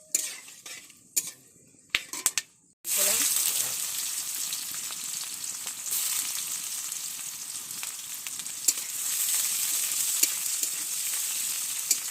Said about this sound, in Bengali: মাছগুলো আগের থেকে একটু ভালো করে ভাজে নিচ্ছি লাল লাল হবে